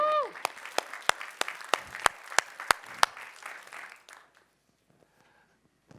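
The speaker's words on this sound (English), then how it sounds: "let's give it a round of applause for BMCC, 60 years" A small audience at a college State of the College event claps in a brief burst of applause with a few loud, distinct near claps standing out, fading out after about four seconds into near silence.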